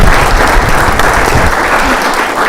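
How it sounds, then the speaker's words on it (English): Loud, steady applause from an audience at a breakfast meeting, a dense wash of clapping filling the room without pause. "let's give these folks a round of applause."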